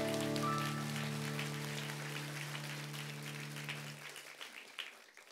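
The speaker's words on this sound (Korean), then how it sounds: "우리 큰 박수로 하나님께 영광 돌리겠습니다" Congregation applauding in a church during a Christmas service, a dense wash of clapping that starts over a fading sustained organ chord and carries on alone, gradually thinning out.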